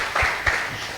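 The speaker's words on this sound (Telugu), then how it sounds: "చప్పట్లు కొట్టి ఒక గట్టిగా చప్పట్లు కొట్టి ఎంకరేజ్ చేస్తామా" A church congregation at a Sunday service applauding, a short burst of claps with a couple of distinct louder hits within a second.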